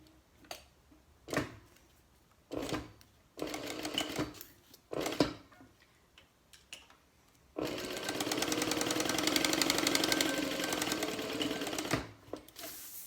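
A sewing machine bastes fabric for a small wallet: several short stitching bursts, then a longer steady rattling run, close and with no talk.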